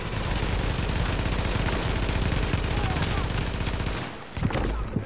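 Rapid, continuous gunfire in The Division's Dark Zone rattles loudly for about four seconds, then cuts off abruptly, leaving a few scattered lighter sounds.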